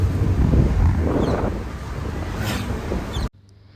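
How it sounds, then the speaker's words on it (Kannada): Strong gusty wind buffets the microphone with a loud, broadband roar that drops off abruptly near the end. "ಗಾಳಿ ಅಲ್ವಾ ಸಖತ್ ಗಾಳಿ"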